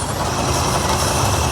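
A brushless FCX24 K5 Blazer RC crawler truck drives under light throttle, giving a steady, even motor whir with no breaks throughout.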